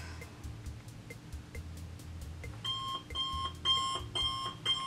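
An alarm sound effect plays steadily: a regular series of short rhythmic pulses gives way after a couple of seconds to louder repeated bright beeping bursts, with no voices heard.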